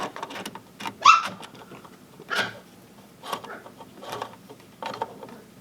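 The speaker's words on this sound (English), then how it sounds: "These dogs are starved for attention, I guess." Dogs bark indoors in a home workshop during a pinball machine repair: a string of loud, close barks and yelps in irregular bursts, with short pauses between.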